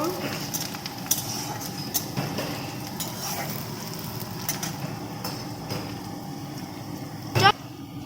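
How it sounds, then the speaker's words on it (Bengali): Onion frying in a pan, a continuous soft sizzle with scattered scrapes and clinks of stirring, ending with a sharp metallic knock. "পেঁয়াজটা ভালোভাবে ভেজে নেব"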